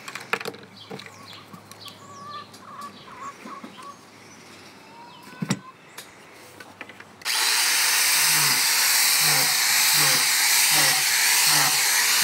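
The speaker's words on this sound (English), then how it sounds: "when you're using this drill, when you go to put it down, wait for it to come to a complete stop" A power drill bores holes into shiitake mushroom logs. It is quiet at first with a few scattered clicks, then bursts into a loud, steady, close whine that runs to the end with small rhythmic dips.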